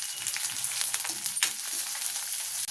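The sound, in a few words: onions frying in a pan for ridge gourd moong dal curry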